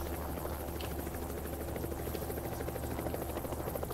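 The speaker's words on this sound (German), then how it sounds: "Ach, schon wieder so ein blöder Helikopter." A helicopter flies overhead in the video game Project Zomboid, giving a steady, droning rotor whir with a low buzzing hum that holds constant throughout, with no talking.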